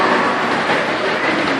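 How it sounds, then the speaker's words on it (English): Model trains roll past on a large scaled layout with Adirondack-style scenery, a steady rumbling clatter of wheels on track held close and loud throughout the short stretch, with no talk. "You can see when these trains sail by"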